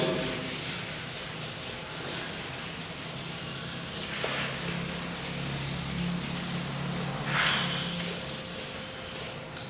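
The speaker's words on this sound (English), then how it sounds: "Then we can rub question number. We can rub it." A classroom board being rubbed clean of written answers, a steady scratchy wiping that runs continuously and fairly close, with no talk over it.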